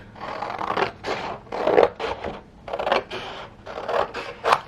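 Scissors snip through a printable paper tea-time gift set in short, close scratchy bursts, about ten cuts with brief pauses between them and no talking.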